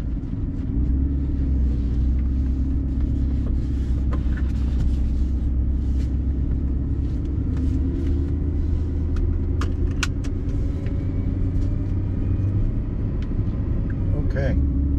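A 2011 Mercedes-Benz SLS AMG pulls away slowly, its engine a steady, loud low rumble heard from inside the cabin, with faint small rattles and clicks over it.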